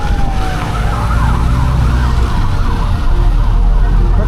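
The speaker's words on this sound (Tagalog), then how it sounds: "Ba't may mga ambulansya" Ambulance sirens wail and warble through stalled traffic on a flooded road, loud and continuous over a low rumble of engines.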